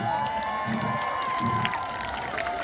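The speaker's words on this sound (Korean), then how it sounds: "여러분들께 진짜의 박수를 받습니다" A crowd at an outdoor riverside festival concert cheers and applauds steadily and loudly, with scattered shouts rising from the mass of clapping.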